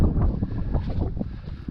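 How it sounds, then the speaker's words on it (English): Strong wind buffets the microphone on an open Peak District hilltop near Brown Knoll, a steady, loud roar with gusty surges and no talk. "Whoa, it's windy this side."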